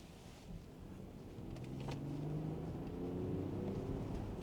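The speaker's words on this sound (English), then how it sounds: "it sounds nice on full chat. That 6-cylinder engine is glorious." Range Rover Sport P440e plug-in hybrid's six-cylinder engine pulling hard under heavy throttle, a steady, rising drone beneath strong wind rush, with no talking.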